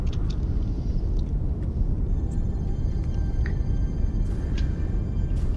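A planetary storm in No Man's Sky rumbles as a loud, steady low roar of wind throughout, with faint scattered high tones and blips over it and no voices.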